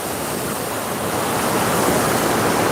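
Full water from the Noyyal river rushing through the Rajavaikkal irrigation canal toward Kurichi tank, a steady, loud, broadband roar of flowing water without pause or voices.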